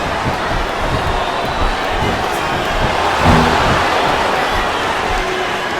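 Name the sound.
arena crowd cheering in video game WWE Smackdown vs RAW 2007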